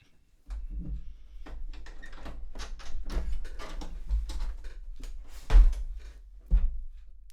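The side door of a PowerMac G4 case being opened, with a soft latch click, a rattling metallic shuffle as the panel swings, and two heavier thunks as it settles, heard close in a quiet room.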